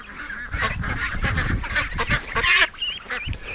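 Ducks quacking and honking loudly and continuously, several birds close by in a dense, overlapping chorus.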